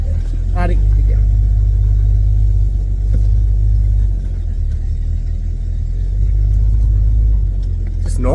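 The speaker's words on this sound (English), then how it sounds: "just driving a car with very heavy steering" An XB Ford Fairmont drives along with a loud, steady low engine rumble and road noise filling the cabin, while people talk over it.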